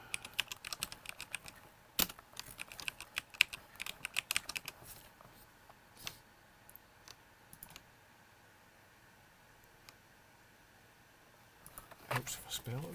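Computer keyboard typing while laying out a newspaper front page handout: a quick burst of close key clicks for about five seconds, then only scattered taps, and a fresh flurry of keystrokes near the end.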